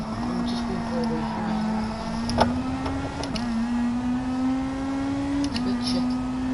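Car engine runs steadily underneath, a constant low hum with a sustained tonal whine that drifts slightly, plus a few faint clicks and knocks.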